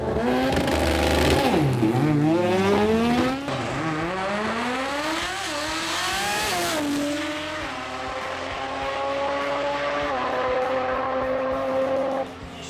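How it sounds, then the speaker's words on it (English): Drag racing cars at a Sydney meet, a Jet Racing ute against a Mazda RX3, roar loudly and continuously as engines rise and fall through gear changes, with rising pitch sweeps and no voices. "McKern Pro Compact saw Kelly Betts in the Jet Racing Ute go up against Andrew Maratos in the RX3."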